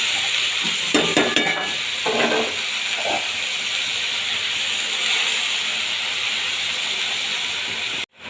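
Note greens (amaranth) fry in tempered oil with a loud, steady sizzle and hiss, broken by a few scraping stirs near the start.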